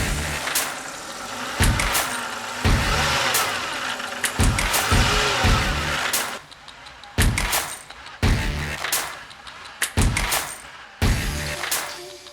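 A 2011 BMW 328i E90 engine runs steadily up close with a whining power steering pump, broken by repeated sharp knocks and clunks every second or so, with a quieter stretch midway.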